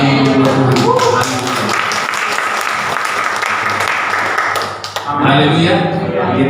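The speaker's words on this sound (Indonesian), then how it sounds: "Kasih tepuk tangan untuk Tuhan." A church congregation at a 25th-anniversary thanksgiving service in Gombong, Central Java, claps loudly and steadily for several seconds, a dense continuous wash of applause with voices mixed in, dropping briefly near the end before resuming.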